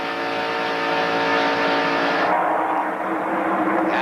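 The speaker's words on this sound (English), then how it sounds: "2 cars now run out back, and that is Dick Trickle and Greg Sachs" NASCAR stock cars racing at the 1991 Busch Clash, including a Junior Johnson Ford, give a continuous loud roar of V8 engines as the pack runs by, with a whine that shifts in pitch and no talk over it.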